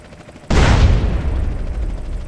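An explosion in the video game GTA San Andreas goes off as a single sudden loud boom, then its low rumble and crackle slowly fade over about two seconds, with no talking.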